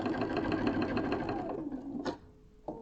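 A domestic sewing machine stitches a quilt block in a fast, steady whirring run that slows and stops, followed by a couple of short bursts, loud and close with no talk over it.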